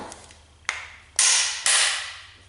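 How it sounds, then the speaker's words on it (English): A brass hammer taps a steel lathe mandrel seated in a bore, three sharp metallic knocks spaced about half a second apart, each ringing briefly and decaying, close and fairly loud. "we'll just take our brass hammer and give it a couple of taps"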